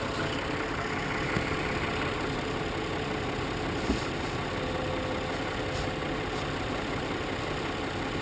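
An Audi S7 Quattro engine idles with the engine cover on, a steady, smooth low hum that stays even throughout, heard close with no talking and only a faint tick or two.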